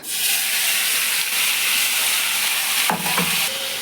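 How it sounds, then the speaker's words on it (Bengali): Bay leaf and onion paste hitting hot oil left from frying bhetki fish, a loud, close, steady hiss and sizzle, with a couple of short clattering knocks near the end. "ওই তেলেই ফোড়ন দেবো তেজপাতা পেস্ট করে রাখা পেঁয়াজ"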